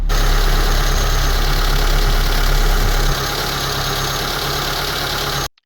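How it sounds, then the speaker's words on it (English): A car engine idles loudly and steadily at 1000 RPM with a low throbbing hum, its level dropping slightly midway before cutting off. "we increased the engine RPM to 1000, which is the standard for normal cars"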